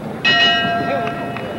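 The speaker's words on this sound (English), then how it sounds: "And there's the bell." Boxing ring bell marking the end of round 1 in the Muhammad Ali vs Jimmy Ellis fight, a bright ringing tone with several strikes over arena crowd noise and commentary.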